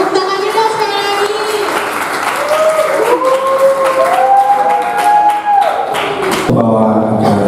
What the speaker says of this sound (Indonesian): Tepuk tangannya dong sekali lagi.